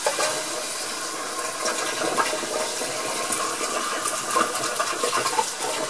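Tap water runs steadily into a basin to wet a towel, a continuous close splashing rush with a mild fluctuating texture and no voices.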